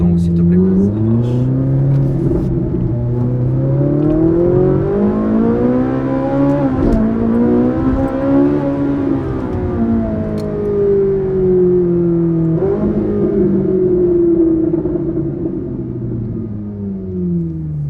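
Ferrari sports car engine revving hard and close, its pitch climbing and dropping in repeated sweeps with a sharp gearshift dip midway, a loud continuous roar over low rumble.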